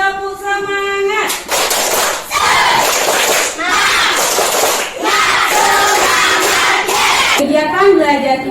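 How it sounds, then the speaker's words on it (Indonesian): A primary-school class does a rhythmic spirit clap, bursts of many hands clapping in patterned beats with children shouting along, loud and close, bracketed by a teacher's sung voice. "Lagi tepuk semangat."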